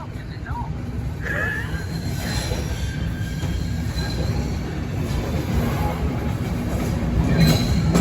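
A train passes a level crossing at Deal, loud and close, with rumbling wagons and squealing wheels that rise in intensity throughout, while a voice speaks faintly in the background.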